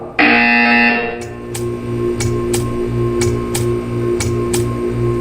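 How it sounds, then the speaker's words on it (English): A loud buzzer in the Portal 2 video game sounds at the start, a steady harsh tone lasting about a second, followed by a hum and a row of evenly spaced ticking clicks. "You will hear a buzzer."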